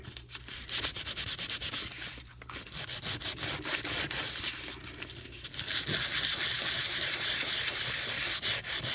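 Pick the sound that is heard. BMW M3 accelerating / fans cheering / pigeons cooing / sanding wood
sanding wood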